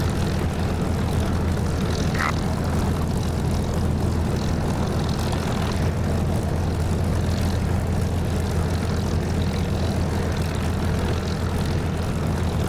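A steady, loud propeller aircraft engine drones on a runway in the DCS flight simulator game, a constant low hum and roar lasting throughout without a break.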